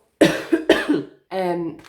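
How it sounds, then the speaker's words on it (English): A few sharp, close coughs in quick succession, followed by a brief voiced throat sound. "Excuse me, I need to cough."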